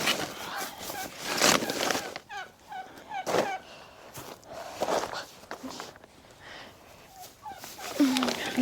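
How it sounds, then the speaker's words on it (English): Turkeys gobble repeatedly in short bursts nearby, with rustling and footstep-like sounds between the calls. "Neighbors' turkeys are telling me all about it."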